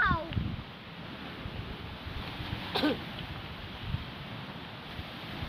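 Wind rushing across the microphone in a steady broad roar, with faint brief voices and a few small clicks underneath.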